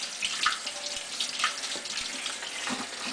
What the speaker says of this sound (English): you want to make sure that you drain it in cold water.